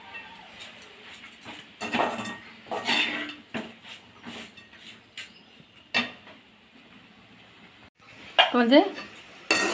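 Mutton sautés in a pan with salt, heard mostly as a spatula scraping and clattering against the metal in bursts, with a faint sizzle between strokes and a person talking intermittently.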